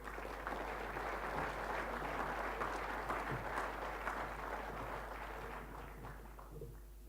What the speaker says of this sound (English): Big round of applause for Elsa.